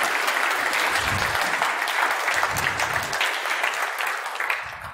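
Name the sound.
audience applause for the volunteers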